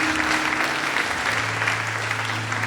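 Steady applause from a church congregation at a Sunday morning service, dense continuous clapping filling the room at an even level throughout, with a low sustained musical tone underneath.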